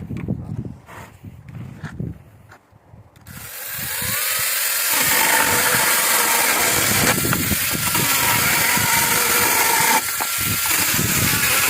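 A GTM CS18/127BL cordless battery saw cutting, starting after a few seconds of quiet clicks and handling noises, then a loud, sustained whining cut that runs almost to the end with a brief dip.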